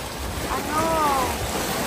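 Strong water current and waves wash steadily at Cheung Sha Beach on Lantau Island, a continuous roar with wind buffeting the microphone and a brief faint whistle-like tone partway through.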